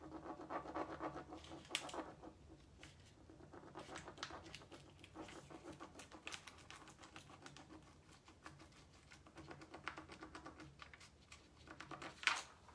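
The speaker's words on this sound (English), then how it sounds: "I'm having to rub just a tiny bit, tad bit, not much, harder, just to make sure that transfer gets down on that paper" Steady scratchy rubbing of a transfer being pressed down onto paper while decorating a tall bench with sunflowers, with short bursts of friction and light tapping, close and fairly quiet, no talking.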